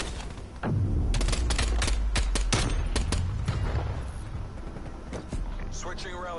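A burst of rapid, heavy Desert Eagle hand cannon gunfire in Call of Duty: Cold War crackles in quick succession, loud and close, with a deep booming rumble underneath.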